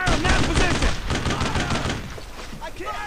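Gunfire in the World War II shooter Brothers In Arms Road To Hill 30, rapid bursts of rifle and machine-gun shots crackling loudly for about two seconds, then thinning out.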